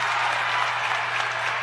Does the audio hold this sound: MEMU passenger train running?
no